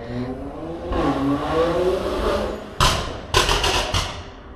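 A car drives past on a road by a used car pitch, its engine rising and fading, followed by two sharp thumps near the end.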